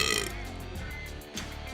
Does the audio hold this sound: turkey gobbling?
no